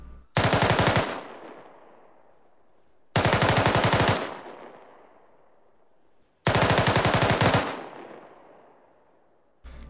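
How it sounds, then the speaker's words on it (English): Machine gun fire in three sustained bursts of roughly 5 to 10 rounds each, spaced a couple of seconds apart, loud and close, each burst trailing off in a long echoing decay. "So instead of 3 to 5 rounds, yep, 5 to 10 rounds every couple of seconds. So it would sound something like this."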